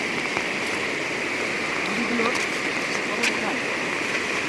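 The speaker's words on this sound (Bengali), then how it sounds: "প্রতিদিন বৃষ্টি হচ্ছে প্রচুর পরিমাণে বৃষ্টি হচ্ছে" Steady, dense rush of monsoon rain mixed with a flowing hill river, loud and continuous throughout, with faint voices beneath.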